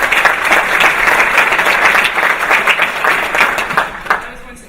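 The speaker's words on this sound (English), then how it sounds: "Could you guys give her a round of applause?" Graduation audience at a college preparatory school ceremony giving a round of applause, loud sustained clapping from a large crowd that thins slightly toward the end.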